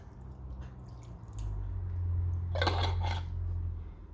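Wet squishing and light clinking as spinach and choko salad with dressing is tossed in a bowl, a short burst of mixing noise over a low steady hum.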